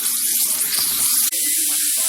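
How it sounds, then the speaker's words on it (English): A pressure cooker on the stove vents steam continuously while short ribs cook, a loud steady hiss close by with one brief dropout partway through and no talking. "So it has to release a little steam the whole time."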